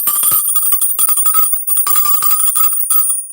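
A hand bell rings loudly and close, a bright high-pitched jangle shaken rapidly and continuously, with a sustained shimmering tone and no voices.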